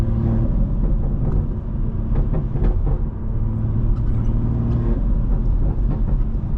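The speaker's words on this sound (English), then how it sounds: "You guys hear those burbles and pops, bro?" A car's exhaust rumbles steadily from inside the cabin while driving, with scattered burbles and crackling pops breaking through the low drone at irregular moments.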